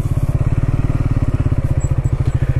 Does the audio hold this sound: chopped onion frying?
no